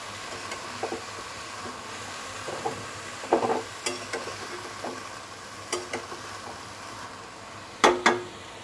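Cabbage stirred and mixed in a frying pan for a Bengali cabbage ghonto, giving soft sizzling under repeated scraping and clattering strokes of a spatula, close by with no talk.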